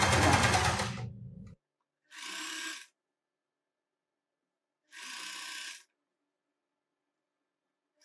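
A sewing machine lock-stitches the side seam of a pleated balloon top in short whirring bursts, one long run followed by two brief separate bursts with silent gaps between them.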